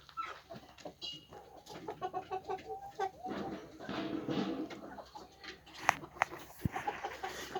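Hens cluck and murmur nearby in a series of short, irregular calls, with a few sharper squawks toward the end.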